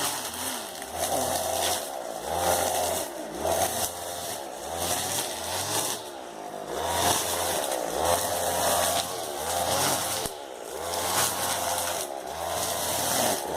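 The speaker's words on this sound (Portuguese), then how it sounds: "Aqui no orgânico ele é roçado de roçadeira assim," A motorized brush cutter clears weeds between banana plants on an organic farm, its engine droning steadily loud and close, the pitch rising and falling in regular sweeps as the blade bites into vegetation.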